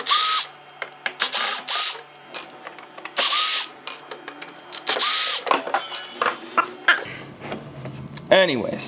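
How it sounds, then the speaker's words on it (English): A power drill unscrews the housing of a Dri-Eaz Revolution LGR dehumidifier in repeated short whirring bursts with pauses between them, close and loud, with a voice speaking briefly amid the mechanical clicks. "I'm gonna have to unscrew the housing really quickly"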